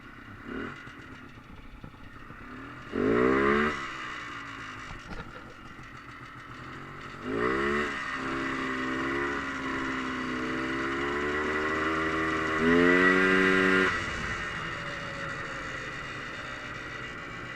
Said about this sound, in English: I love these older two-strokes because when you hit that power band, it just, like, takes off